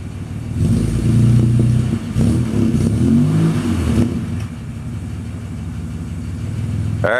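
A 1947 Chevrolet Fleetline two-door Aero sedan with dual exhaust idles and backs out, its steady low engine rumble loud and close, swelling slightly early on and holding an even tone throughout.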